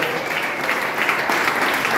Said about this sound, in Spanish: Alguien aplauda la presencia de Dios, por favor.